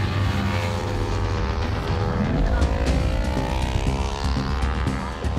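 Race cars speed around a track in a continuous loud roar, their engine notes rising and falling in pitch as the pack passes close by.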